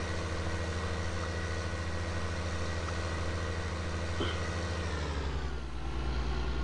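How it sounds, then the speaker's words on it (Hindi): Ford 8340 Power Star tractor engine idling in Farming Simulator 19, a steady low diesel rumble that runs throughout with no voices, shifting slightly in tone near the end. "ट्रैक्टर की आवाज़ बहुत ही प्यारी है,"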